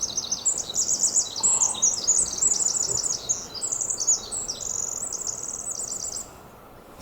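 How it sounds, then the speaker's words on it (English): Bright, rapid chirping song from a bird in a wet Arlington, Washington forest, repeated in quick trills close by over a constant wash of dripping and rustling background noise, with no voices. "Hear that bird singing?"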